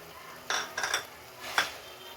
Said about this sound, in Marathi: आता मी याच्यामध्ये दोन चमचे काश्मीरी मिरची पावडर टाकते